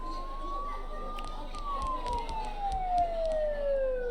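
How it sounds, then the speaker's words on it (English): A siren in the video game Persona 4 Golden wails steadily, gradually falling in pitch, beneath scattered clicks and faint background voices. "Don't those sirens sound really close?"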